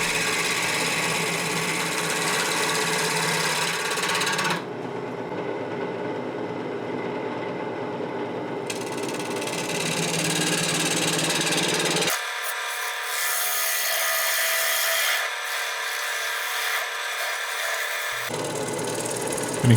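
A wood lathe spins a cedar bowl while its base is flattened, giving a loud, continuous whirring grind with scraping tool contact that shifts in tone several times, with no talk.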